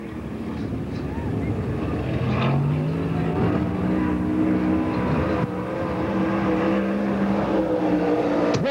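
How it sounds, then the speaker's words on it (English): Number 68 Rocket chassis dirt late model race car on a qualifying lap at Pennsboro Speedway: a loud engine roars and revs through the lap, pitch rising and falling, with a commentator talking over it throughout. "Taking the green flag now, driving the drain-powered rocket chassis, the 68 car out of Weston, West Virginia, the kid Tim Hitt in car number 68 on the Speedway"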